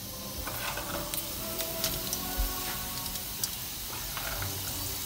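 Fennel seeds frying in a tablespoon of hot oil in a pan, a steady soft sizzle and hiss with small crackles and pops scattered throughout, fairly quiet and close.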